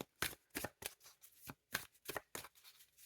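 Tarot cards handled and shuffled in quick repeated bursts, about eight crisp riffling rasps with short gaps between them, close and clear with no talking.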